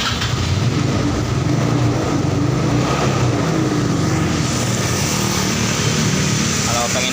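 A carbureted Yamaha Mio motorbike engine runs steadily up close, a loud continuous buzzing drone with no pauses or changes in rhythm.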